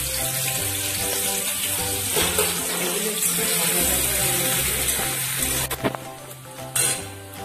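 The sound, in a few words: chopped capsicum and chili frying in hot oil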